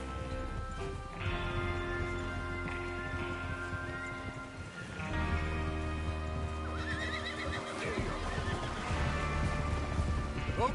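Horses whinny and neigh over a steady clatter of hooves in Red Dead Redemption 2, with a continuous dense rumble of activity and music-like tones underneath.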